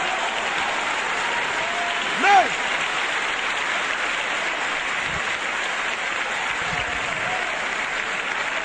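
A church congregation applauds during a sermon, a steady wash of clapping that fills the whole stretch at an even level, with faint voices mixed in.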